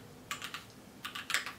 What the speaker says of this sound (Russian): Вот это у меня Keychron Q3.